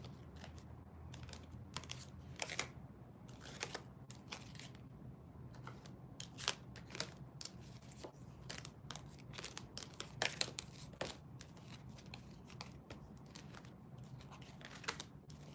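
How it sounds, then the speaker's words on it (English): Reading cards are shuffled in quick, irregular flicks and snaps, close and quiet, each burst short and crisp against a soft background hum. "I shuffled these cards wrong"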